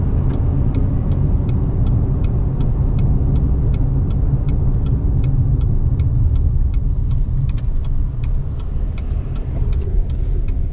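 Steady interior road rumble of a car driving north on Arizona highway 188 near Roosevelt Lake, a continuous low drone with a faint regular ticking throughout and no talk.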